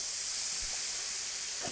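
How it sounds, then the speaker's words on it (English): Steady, loud hiss of steam rising from a steak seasoned with salt and pepper on a Blackstone griddle, continuous and unbroken with no talk. "And let's steam it again."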